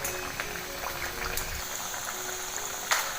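Bottle gourd vadi with sesame frying in oil over medium heat, a steady close sizzle and bubbling with a few faint pops, no talking.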